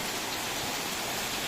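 Heavy evening rain pours steadily in Phang Nga, Thailand, a dense, unbroken roar of water hitting surfaces, loud and close with no pauses.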